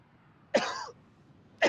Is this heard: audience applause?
no